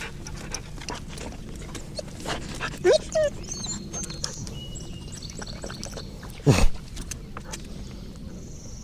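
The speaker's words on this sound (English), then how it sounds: "Dog wanted to say hi." A dog near a flooded river gives a few short whimpering, whiny vocalizations and a brief louder yelp, scattered over quiet outdoor background with occasional rustling and panting.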